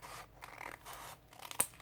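Scissors cut paper shapes for an art journal quilt-effect background, with a few quiet snips and rustles and one sharper closing snip near the end, close up with no voices.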